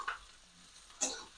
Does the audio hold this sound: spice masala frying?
yes